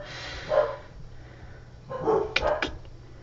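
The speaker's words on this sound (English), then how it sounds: "my dogs are talking. The mailman must be here." Pet dogs bark indoors at a mailman's arrival: a few sharp barks and yips in two short bursts, fairly close and moderately loud, with no talking.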